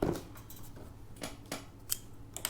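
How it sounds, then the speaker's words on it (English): A sharp hobby knife slicing material, giving a few short, faint scraping cuts spaced irregularly over a quiet background. "I'm just doing or playing around with my hobby knife"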